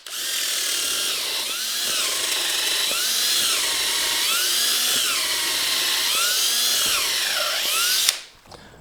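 A Hercules cordless drill in drill mode at speed 3 whines loudly and close, its pitch dipping and recovering in repeated cycles as it bites into material, then cutting off abruptly near the end.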